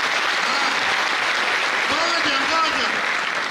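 Conference audience at an education and leadership congress clapping, a steady spread of applause from many hands with a voice speaking briefly partway through.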